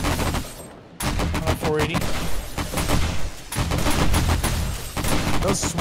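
Rapid bursts of automatic gunfire from the zombie survival game 7 Days to Die (War of the Walkers mod) during a nighttime horde fight, dense and continuous, with players talking over it.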